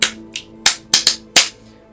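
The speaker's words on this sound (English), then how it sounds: "Before I do readings, I will clap." Hand clapping before a reading, five sharp claps in an uneven rhythm, close and distinct with no talk.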